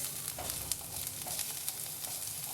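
Ground garlic paste sizzling in a hot pan while being stirred for a palak corn dish, a steady faint crackling fry with soft scraping strokes, no voices.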